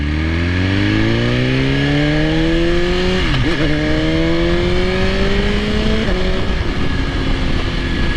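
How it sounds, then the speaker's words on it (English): A 2020 BMW S1000RR superbike pulls hard through the gears while ridden, its engine note climbing in a steady rise, dipping briefly at a shift and climbing again under loud wind rush. "this is my first time on an S1000RR"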